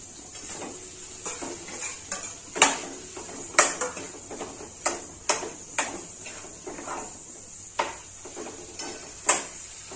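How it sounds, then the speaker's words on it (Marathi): A spoon scrapes and clinks against a pan as eggplant is stirred into a tomato masala for bharit, with a soft sizzle underneath and regular clattering strokes, close by, with no speech. "तर मी आता त्याच्यामध्ये ही वांगी टाकणार आहे."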